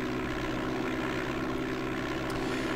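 A propeller aircraft engine in DOS Flight Simulator 5.1 drones steadily and loudly, a dense unbroken hum with no voices over it.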